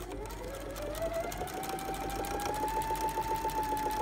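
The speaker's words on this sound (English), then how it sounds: "basically you just want to line it up across the top and sew that seam all the way down" A sewing machine stitches a quilt block seam at a steady, rapid rhythm, running continuously and close throughout with a faint rising whine, no talking over it.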